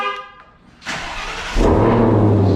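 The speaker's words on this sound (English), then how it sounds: "you already know the cold start that never, ever, ever gets old" A Shelby GT500 cold start: a brief chime and clicks, then the starter catches and the V8 bursts to life with a loud roar at about one second, settling into a strong, rumbling high idle.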